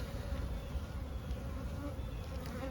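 Honeybees from an aggressive hive buzz in a dense, steady drone, a continuous swarm hum heard close up with no voices over it.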